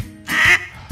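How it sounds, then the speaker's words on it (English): A single loud, close duck quack rising out of quiet background hum, brief and alone. "We've got to help the ducks of the world."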